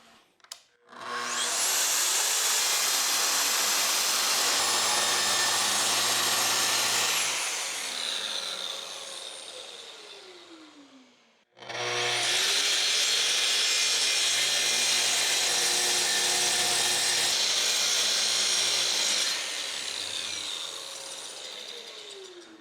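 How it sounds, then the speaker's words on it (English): Track saw crosscutting plywood into a crosscut sled base and fences, two long steady cuts with loud whining blade and motor, each winding down as the saw spins off, alone without talk. "I'm breaking down this plywood into the sled base and fences that I need with my track saw."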